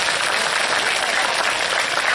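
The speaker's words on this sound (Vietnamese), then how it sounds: "Một tràng pháo tay, tạm biệt." At a secondary school career guidance event, the student audience breaks into a short, dense burst of applause, a steady hissing wash of many hands clapping, with a voice faintly mixed in.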